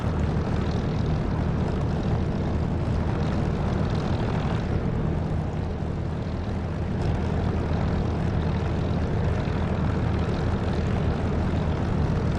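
A Spitfire's propeller engine drones steadily and loudly in the DCS flight simulator, a dense continuous roar that holds level with only slight swells across the whole stretch, with no voices over it.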